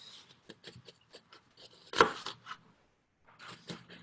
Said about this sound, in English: I'm going to draw lines down with my knife